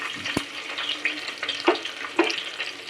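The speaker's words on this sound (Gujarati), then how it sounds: "મરચાંની કટકી નાખી દઈશું." Chopped green chilies hit a hot pan and sizzle in a steady frying hiss, broken by several sharp clinks and stirring knocks, loud and close.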